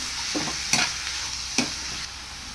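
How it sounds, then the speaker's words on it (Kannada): Beetroot fries in oil in a pan with a soft continuous sizzle, while a spatula scrapes and stirs it in two or three sharp strokes, close by and with no voices. "ಬೀಟ್ರೋಟ್ ಹಾಕ್ಕೊಂಡು ಅದನ್ನು ಕೂಡ ಚೆನ್ನಾಗಿ ಎಣ್ಣೆಗೆ ಫ್ರೈ ಮಾಡ್ಕೊತಾ ಇದ್ದೀನಿ"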